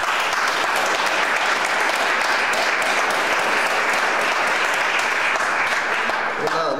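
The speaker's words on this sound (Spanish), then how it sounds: "un aplauso para él." A lecture audience in Rabanera del Pinar applauds a speaker, dense, loud sustained clapping from many hands that carries evenly and tapers slightly at the end.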